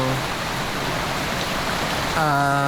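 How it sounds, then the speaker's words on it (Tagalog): Heavy rain pours in a loud, steady hiss that holds throughout, with a brief tonal sound rising near the end. "ang lakas ng ulan"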